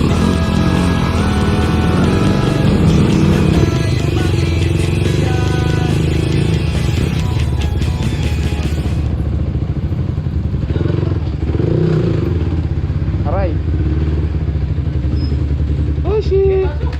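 An Endurance ride motorcycle engine drones loudly and continuously while the bike is ridden, with wind buffeting and occasional clatter and thumps; someone speaks over the engine noise.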